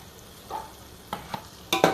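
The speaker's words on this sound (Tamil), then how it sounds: "எண்ணெய் நல்லா பிரிஞ்சு வர்ற அளவுக்கு வதக்கணும்" Biryani masala is sautéed in oil and ghee in a pan. A faint low sizzle runs under a few quick, close stirring scrapes that cluster near the end.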